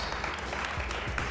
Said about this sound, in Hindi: बहुत सारी तालियां हमारे दोस्तों के लिए।